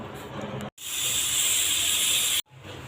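A loud, steady hiss of steam bursts from a pressure cooker whistle for under two seconds, cutting off abruptly between quieter stretches of kitchen noise.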